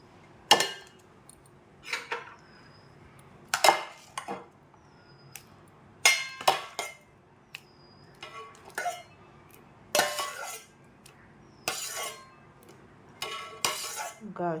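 Banana pieces go into a bowl of lightly sugared snack batter, with repeated clinks and taps of a spoon against the bowl in short bursts, close and fairly loud, separated by brief quiet gaps.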